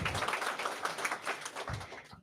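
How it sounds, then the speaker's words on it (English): An audience at a Women's Day evening event applauds: a dense, close wash of many hands clapping that swells and dips over a couple of seconds before breaking off. "Please give yourselves a hand of applause."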